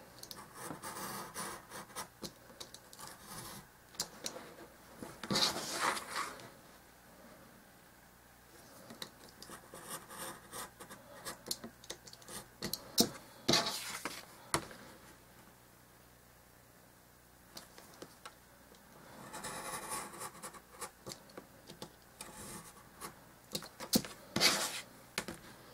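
Wood being cut by hand for dollhouse miniature kitchen cabinets, with faint bursts of scratchy rasping strokes separated by quiet pauses.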